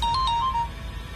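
A phone's electronic ringtone chimes twice in quick bright tones and then trails off, heard close and alone in a quiet room.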